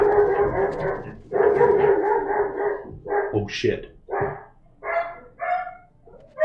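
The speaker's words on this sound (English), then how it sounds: "Dog's going off." A house dog barks repeatedly at someone at the door, loud close bursts in an uneven run that fade to whimpery yips near the end, with someone talking over them.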